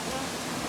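Ozarde waterfall in full flow, a dense, continuous roar of rushing water filling the scene at steady loudness, with no pauses.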